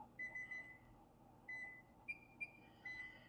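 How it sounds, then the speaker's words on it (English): An oven timer being set to 15 minutes while baking a leftover frittata at 400 degrees, giving a series of short, clear electronic beeps in irregular bursts, some held longer, over faint kitchen room tone. "I'm going to set the timer"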